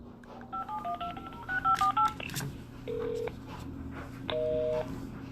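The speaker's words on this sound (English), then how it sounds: "we're going to call with the other phone" Telephone keypad tones from a phone being dialed, a quick run of short touch-tone beeps followed by a few longer steady tones, faint hum underneath, with no speech.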